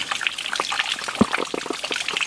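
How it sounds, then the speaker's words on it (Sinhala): Clear mountain water trickling and splashing down over rocks, a close, lively patter of small drips and gushes with no voices. "මොනතරම් පිරිසිදු වතුරද මේ උඩ කන්දෙන් එන වතුර"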